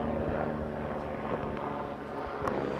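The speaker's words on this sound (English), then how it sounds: "Now there's a helicopter on top right here." A helicopter passes overhead at a remote outdoor spot, a low steady rotor drone with some wind rumble, continuous and moderately distant, with no voices.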